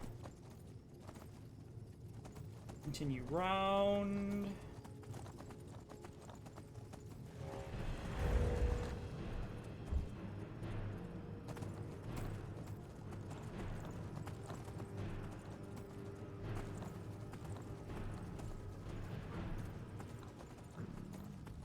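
Horse hooves clip-clopping steadily in the Skyrim video game, close and continuous for most of the stretch, with a brief horse whinny near the start and one short spoken line.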